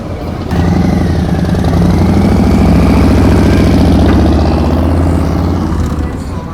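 A motorcycle engine rumbles loudly on a city street in a historic district at night, a steady low drone that swells and then fades slightly as it goes by.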